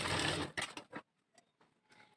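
Sewing machine stitching a sleeve onto a blouse: a short close burst of motor whirring with a few quick stitching pulses, then it stops, leaving faint small clicks.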